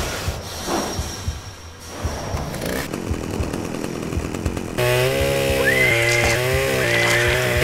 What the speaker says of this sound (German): die Kettensäge macht Lärm, wenn ihr Motor läuft.